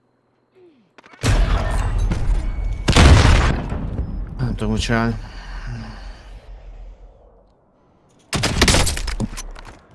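Gunfire in the video game Warzone: loud bursts of shots and booms come in two clusters separated by quieter stretches, with someone talking in between.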